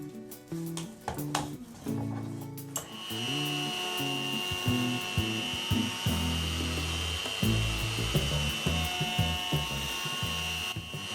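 A wood router riding on a router sled while flattening a live edge slab gives a sustained high whine, with uneven bumps and shifts in pitch as the cutter passes over the wood.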